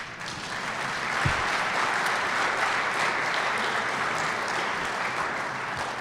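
Sustained applause from a crowd at a Democratic county party's annual dinner, a dense, even roar of many hands clapping that holds steady for several seconds with no talk over it.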